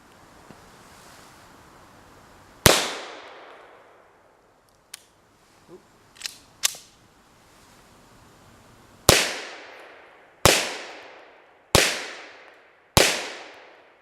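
Gunshots from a 1943-dated Japanese Type 94 pistol fired outdoors: one sharp crack, a pause filled with faint clicks and handling noises, then four more loud shots at a steady pace of roughly one per second, each leaving a decaying echo.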